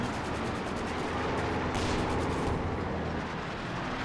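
Anti-tank guns fire in a Company of Heroes 2 battle, a dense, continuous roar of gunfire and explosions with layered booms, loud and unbroken throughout.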